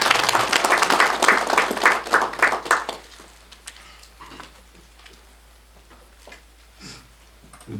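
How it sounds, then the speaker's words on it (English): Conference audience gives a short burst of applause, loud clapping for about three seconds before it quickly fades into scattered claps and quiet room noise. "Shall we give a round of applause for him?"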